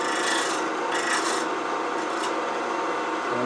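A tool rounding over a flute on a turned cherry wood bud vase gives a continuous close, rasping scrape with short surges in intensity.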